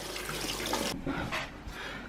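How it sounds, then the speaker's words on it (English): Hot tap water runs from a faucet over a Cricut cutting-machine part being washed, a steady close rush that cuts off abruptly about halfway, followed by a few brief splashes and drips. "So he said run it under hot water."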